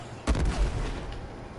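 One muffled boom of a gunshot goes off in the Warframe video game. It is fairly faint and has a short rumbling tail.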